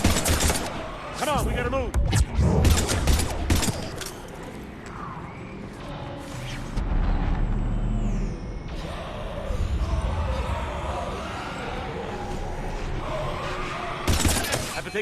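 Sci-fi weapons fire in Mass Effect 3 crackles in sharp, clustered shots that are heaviest at the start, then gives way to rumbling combat noise, with a voice speaking partway through.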